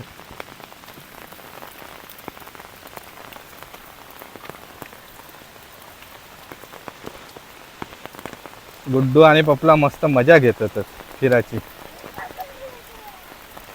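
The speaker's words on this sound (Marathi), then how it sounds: "पावसाचा जोर अजून काही कमी नाही फुल जोरातच पाऊस पडता" Heavy rain falling steadily outdoors during a storm in Konkan, a constant hiss of drops with scattered sharper patters, and someone speaking briefly partway through.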